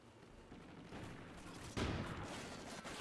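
Rapid bursts of gunfire in a shooter video game, fairly quiet and steady, with a sharper, louder volley partway through and no talking.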